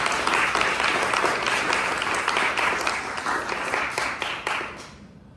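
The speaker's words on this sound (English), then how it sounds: "give them a round of applause" A hackathon audience gives a steady, full round of applause after a Google Workspace and AppSheet team presentation, holding strong for several seconds and then tapering off at the end.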